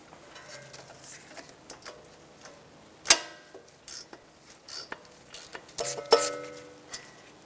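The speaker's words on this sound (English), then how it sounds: "Using a 10 millimeter socket, we're going to remove the ABS sensor bolt." A 10 mm socket ratchet clicks in short, irregular bursts while removing the ABS sensor bolt on a 2012-2016 Subaru Impreza, with a sharper metallic clack near the middle and a few more toward the end.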